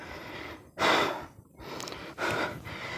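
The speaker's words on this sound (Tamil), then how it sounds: "மேலே ஏறி வந்ததில் நல்ல மூச்சு வாங்குது." Heavy panting after climbing a hill to a Western Ghats temple, with three loud, breathy gasps spaced about a second apart. Each one is close and clear, with a quieter airy pause between them and no talking.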